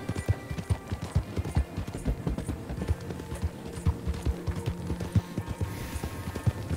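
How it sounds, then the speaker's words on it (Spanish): Hooves of a horse clip-clop steadily in a video game as a rider travels long distances, a continuous galloping rhythm heard clearly and alone. "me hago las millas a caballo que tengo que hacerme"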